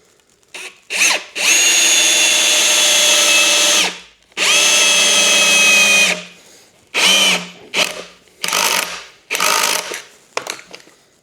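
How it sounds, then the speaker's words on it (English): A power drill drives a screw into a rat rack under construction, with one long whirring run, a second sustained burst, then several short stop-start pulses close to the mic, and no talking. "I'm going to go ahead and put one screw on before I continue."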